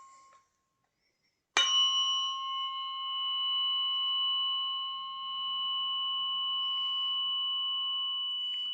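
A tuning fork is struck once in a sound healing session: a sharp metallic onset followed by a clear, pure ringing tone with bright overtones that sustains evenly and slowly swells and fades over several seconds, heard alone.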